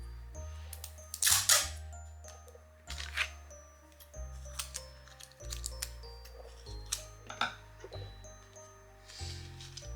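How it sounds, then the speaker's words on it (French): Adhesive tape pulled off the roll and pressed onto gift wrapping around a box of Ferrero chocolates: close, quiet bursts of ripping and crinkling paper, separated by brief pauses and repeated several times. "un scotch ici, un scotch ici."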